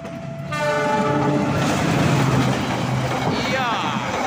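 An Argo Wilis passenger train rushes past nearby in a loud, steady roar, its horn sounding as it arrives and wheels clattering on the track, with voices faintly under the noise.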